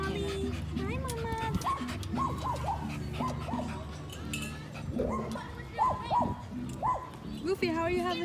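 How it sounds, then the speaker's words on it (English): Several dogs, including a beagle, bark, yip and whimper at an outdoor dog park in short, uneven bursts close by, with people talking in between. "Another dog. It's a beagle."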